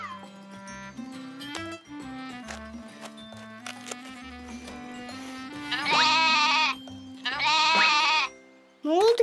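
A cartoon goat lets out two long, wavering bleats, loud and close, over a soft background melody, with short squeaky animal calls between them.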